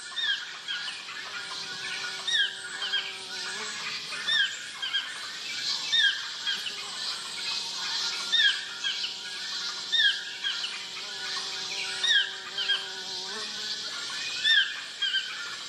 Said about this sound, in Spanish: Los tucanes pico café marcan sus territorios con un grito característico.